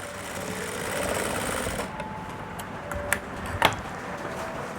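Sewing machine stitching fabric along a shoulder seam, a close steady whirring run that stops partway through, followed by a few light ticks and clicks as the machine and fabric are handled.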